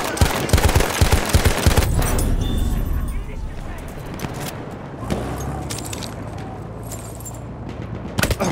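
Anti-aircraft flak gun fire in a video game: a fast burst of heavy, close shots at the start, then a dense, loud wash of rumbling fire and scattered impacts, with voices talking over the noise.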